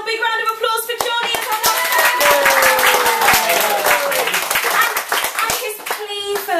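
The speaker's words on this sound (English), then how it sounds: "Can we have one final big round of applause for Jonni?" A pub poetry audience at the Edinburgh Fringe breaks into a loud, sustained round of applause with dense hand clapping, a few voices mixed into the crowd noise.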